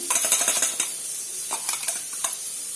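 A spoon stirs egg masala curry in a cooking pan, giving a quick run of sharp metallic clinks and scrapes, then a few scattered taps, close and with no voices.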